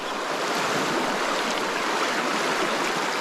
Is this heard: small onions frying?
no